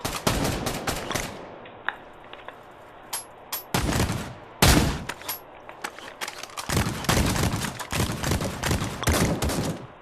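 Automatic and single gunfire from VR shooter Pavlov on Quest, sharp loud bursts and rapid volleys scattered across the span, with short gaps between strings of shots.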